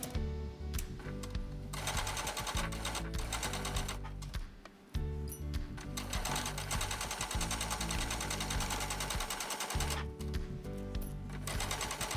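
A sewing machine stitches a quilt seam in close, rapid mechanical bursts, running for several seconds, stopping briefly around the middle and again near the end before resuming.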